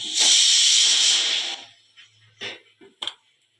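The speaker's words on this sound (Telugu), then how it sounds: "వీటిని ఆవిరి మీద పెట్టాలి" A loud steady hiss of steam from sweet dumplings (jilledu kayalu) steaming on the stove for about a second and a half, then it cuts off, leaving a few soft clinks and taps.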